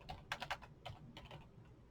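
Typing on a computer keyboard: a short, quiet burst of irregular key clicks, a few closely spaced taps with brief pauses, heard alone without talk.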